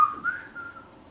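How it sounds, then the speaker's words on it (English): A brief, faint whistled phrase: a few wavering notes sliding upward, then a held tone fading out. "Whistle that little tune."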